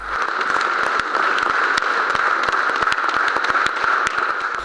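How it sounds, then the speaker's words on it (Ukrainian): Standing ovation at a regional council session in Cherkasy, a steady dense wash of many hands clapping, loud and continuous with sharp individual claps popping out throughout. "Аплодували стоячи."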